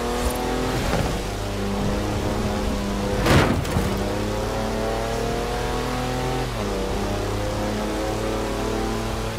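A Jaguar E-Type on mud tyres in Forza Horizon 4 revs hard off-road, its engine note climbing and sliding through gears with a sharp surge midway, loud and close with no talk.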